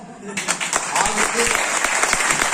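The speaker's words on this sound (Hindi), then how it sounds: "अभी तक तो झूमर नीचे गिरने चाहिए आपकी तालियों से" Sustained, loud applause from a crowd at a Tiens International leadership motivational event, beginning abruptly and continuing steadily while a voice talks over it.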